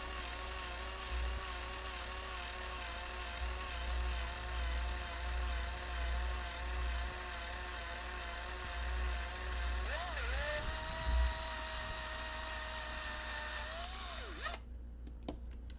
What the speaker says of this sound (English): That way we can start drilling.